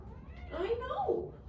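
A house cat lets out one drawn-out, rising and falling meow close by, loud and clear, with a person talking just around it.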